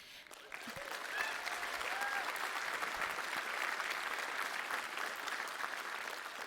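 Sustained applause from a large audience at a PAX East 2020 gaming convention main theater show, steady dense clapping with a few cheers, loud and continuous throughout.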